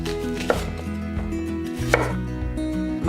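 A dull kitchen knife chopping ingredients for a chipotle sauce in a home kitchen: a handful of distinct, uneven thuds spaced a second or so apart, with a steady tonal background underneath.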